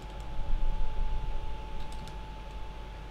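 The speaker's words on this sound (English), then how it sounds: "Type Chrome flags, right?" Someone types on a computer keyboard, entering a browser address. Light, quick key clicks sit close against a steady background hum, with no voices.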